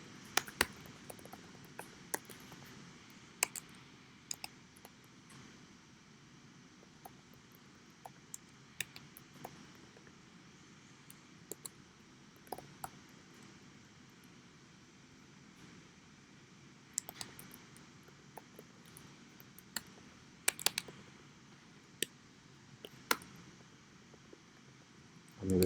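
Slow, scattered keypresses on a computer keyboard, isolated quiet clicks spaced irregularly with occasional small bursts over a faint room hiss, no talking.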